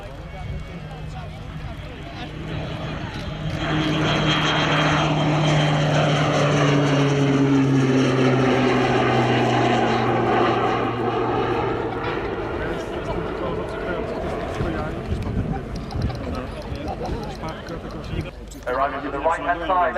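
A propeller aircraft flies in for a Royal Air Force display at the Cosford airshow, its engine drone swelling and droning loudly under a public-address announcer's voice.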